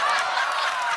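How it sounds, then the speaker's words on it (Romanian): A TV show audience bursts into brief applause, a dense steady wash of clapping filling the short moment. "Aplauze!"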